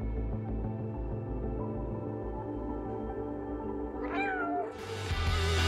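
A cat in the video game Stray meows over a sustained low musical drone, with a clear rising-falling meow near the end, followed by a brighter burst of sound.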